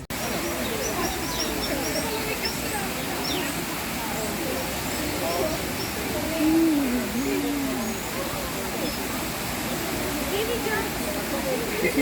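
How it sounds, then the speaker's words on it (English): Small waterfalls and a pond in a bird exhibit at Disney's Animal Kingdom give a continuous hissing rush of falling water, with bird calls and brief murmured voices on top. "Look at the waterfalls."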